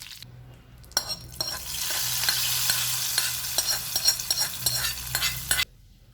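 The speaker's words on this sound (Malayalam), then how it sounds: "ഇനി ഇത് നമ്മുടെ മീൻ കറിയിലേക്ക് ഒഴിച്ചു കൊടുക്കാം." A hot tempering of mustard seeds, two dried red chillies and curry leaves hits a coconut-milk fish curry with a sudden loud burst of sizzling and crackling. It holds steady for several seconds, then stops sharply.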